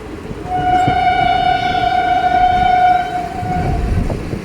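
The Simhadri Express passes beneath a rail-cum-road bridge, a loud sustained horn-like tone over the rolling rumble of the train, continuing alone without voices.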